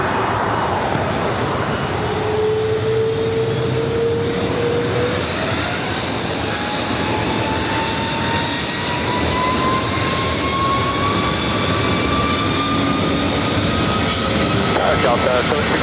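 Hawaiian heavy jet airliner taking off from LAX runway 24 right, a sustained roaring engine rumble with a rising whine that swells and holds across the whole stretch, heard from a distance.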